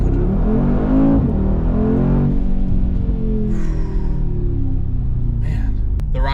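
Mercedes-AMG G63 V8 engine revving loudly close by, a deep throaty roar swelling and easing over several seconds, with someone talking over it.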